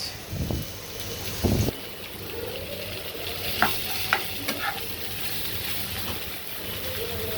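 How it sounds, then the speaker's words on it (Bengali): Chopped onions go into bitter gourd frying in a pan, with a few sharp stirring scrapes and clacks over a continuous soft sizzle, close up and moderately quiet. "এই চুলায় হচ্ছে আমার করলার সাথে দিচ্ছি পেঁয়াজ।"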